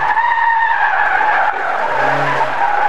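A Ford Escort rally car skids through a handbrake turn, a loud sustained tyre squeal over a revving engine that dips and shifts pitch near the end.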